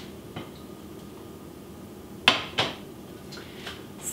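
A cast iron braiser gets set down on a stovetop, producing two sharp metallic clanks close together, then a few lighter taps over a quiet kitchen background.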